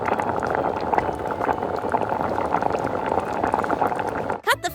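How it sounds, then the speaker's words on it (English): A whole octopus simmers in a pot of water, with a steady, busy bubbling boil filling the scene before a brief clatter near the end. "Put the octopus into the pot of water."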